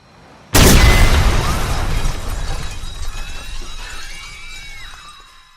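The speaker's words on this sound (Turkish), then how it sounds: "Ani bir patlama, hızlı bir şok ve korku hali." A sudden loud bomb blast in a film scene erupts after a brief quiet, followed by a long roar of shattering debris that slowly fades, with faint whistling tones.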